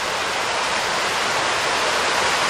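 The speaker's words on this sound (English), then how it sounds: "The waterfall" A small waterfall on a modest stream in a snowy, icy setting beside the Packsaddle Covered Bridge in Pennsylvania, a steady, full roar of rushing water that stays loud and even throughout with no voices.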